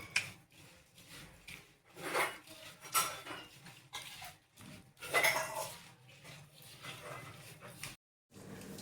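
Vegetables being mixed with oil and lemon juice in a pot for a Gujarati steamed mixed vegetable dish, giving repeated scraping and clinking of a spoon against metal with soft rubbing between strokes, close and moderately quiet, with no talk.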